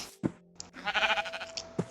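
Sheep in the Minecraft video game bleat in short bursts, a couple of quick game-sound bleats followed by a longer wavering bleat, clear and close with no voices over them.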